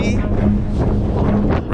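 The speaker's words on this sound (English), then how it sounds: "It's like super, super windy." Strong wind buffets a microphone outdoors during a storm in San Antonio, a loud, constant low rumble and rush under a person's voice.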